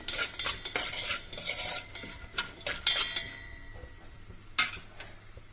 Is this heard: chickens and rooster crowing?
no